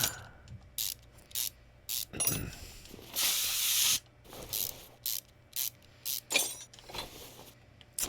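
Ratchet wrench removing engine bolts in the video game Car Mechanic Simulator 2021, a series of short bursts of rapid clicking, one slightly longer, fairly quiet and close with no talk.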